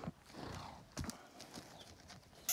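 Hooves of heavy draft horses clip-clop on the ground in a few spaced, firm strikes, close by, with a low murmur of voices and farmyard noise behind them.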